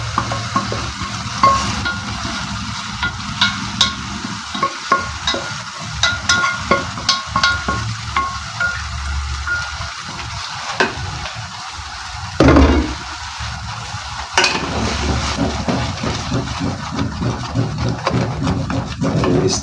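Vegetables and tomato paste sizzling in a pan while being stirred, with repeated scraping strokes over a steady frying hiss, close and fairly loud, with brief pauses between stirs.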